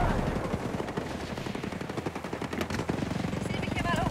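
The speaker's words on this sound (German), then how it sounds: "Oh, der hat sogar Miniguns." Rapid, dense minigun fire in the tactical shooter Ghost Recon Breakpoint, a sustained, loud stream of overlapping shots that runs without a break for about four seconds.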